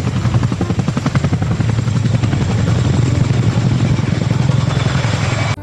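Loud, steady thumping rotor chop of a toy military helicopter, close and continuous throughout.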